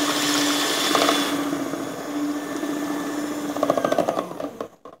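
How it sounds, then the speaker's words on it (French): An electric hand mixer whisks egg whites with a pinch of salt for a chocolate cake, giving a steady, close whirring drone that holds for several seconds, then breaks into uneven bursts and stops. "on va mélanger avec le batteur électrique"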